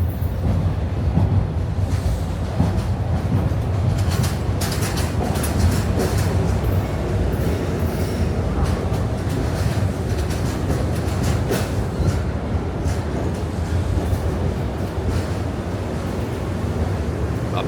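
An Acela train rolls into a station platform close by with a continuous loud rumble and metallic clatter, steady from start to finish.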